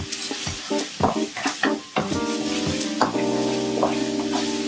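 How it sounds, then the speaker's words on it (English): Ingredients stir-fried in oil in a pan over medium-high heat, a loud close sizzle with repeated scraping and tapping of a utensil against the pan, building to a steady hiss toward the end. "give it a stir fry until you can start to smell those aromas as they're starting to cook"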